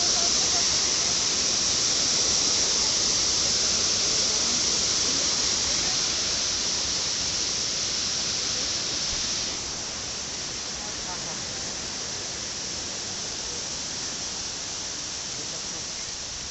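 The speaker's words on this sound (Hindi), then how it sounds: "आवाज़ सुन सकते हो तुम झरना के पानी के" Continuous roaring rush of falling water, loud and steady, easing slightly partway through.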